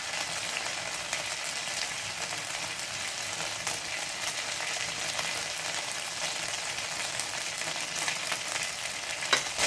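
Whole spices and ginger fry for a Bengali bottle-gourd dish, giving a steady, even sizzle that carries on unbroken with no voices.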